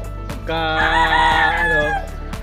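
A talisain gamecock rooster crows once, loud and close, a drawn-out harsh call lasting over a second, with other birds faintly audible around it.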